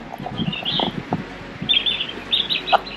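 Several birds chirp and tweet in short bursts on the Ladram Estate near a waterfall, clear and fairly close against a quiet outdoor background.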